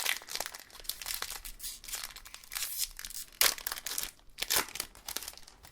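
A Pokémon Sword and Shield booster pack wrapper being torn open, close crinkling and crumpling of foil plastic in bursts with sharp tearing rips, loud and busy throughout.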